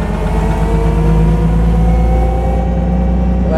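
A 1927 Mercedes 680S touring car, an SSK-type vintage supercharged engine, running with a deep, steady rumble and a slight rise in pitch, loud and close, with no voices.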